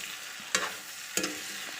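Local chicken meat frying in a pan and being stirred, a soft sizzle under two sharp scraping strokes of the spatula about half a second apart, close by.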